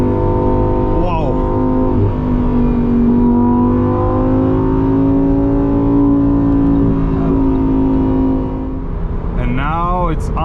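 Lamborghini Huracan EVO Spyder V10 engine droning loud and steady as the car drives toward the Autobahn, pitch slowly climbing, with a sharp rev burst near the end and a person talking over it.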